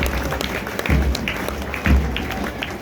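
Applause from spectators at a Delhi Police training center passing out parade, a broad steady patter with heavier bursts of clapping and marching-step thumps, crowd noise mixed throughout.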